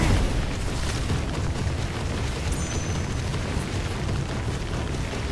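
A fire magic attack erupts in Final Fantasy 16 as a sustained, dense roaring blast, loud and close, rumbling steadily throughout with a brief bright whoosh partway through and no clear talking.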